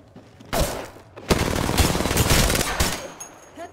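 Rapid automatic gunfire in the Apex Legends battle royale game, loud and close, firing in a short burst and then a sustained stream of shots lasting about two seconds before trailing off.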